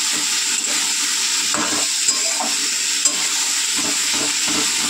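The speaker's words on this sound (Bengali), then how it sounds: "এইভাবে কিন্তু সুন্দর করে কষিয়ে নেব তরকারিটা" Curry spices with chilli powder, cumin and added water sauté in a pan, giving a continuous close sizzle and hiss with occasional stirring scrapes, no voices.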